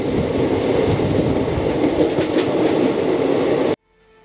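A train runs along its rails with a loud, steady roar and rumble heard up close from an open carriage door, then cuts off abruptly near the end.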